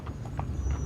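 LAPD police horses walking on a busy downtown Los Angeles street, hooves clopping in a few soft, steady beats under low traffic rumble.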